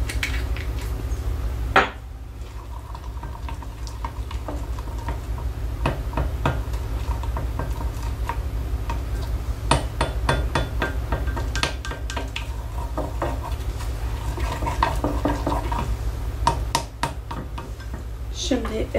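A solid shampoo mixture is pressed and stirred to crush its lumps, with repeated clicking, scraping taps of a utensil against a bowl, close and irregular, while a voice talks at moments.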